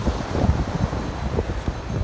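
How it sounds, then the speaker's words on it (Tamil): Floodwater pouring from villages into the sea in Jaffna makes a steady, loud outdoor rush of water, mixed with wind buffeting the microphone and a low rumbling surf. "கிராமங்களில் இருக்கிற வெள்ளம் கூடி வெள்ளம் பெருக்கெடுத்து இப்படியே கடலுக்கு வருது"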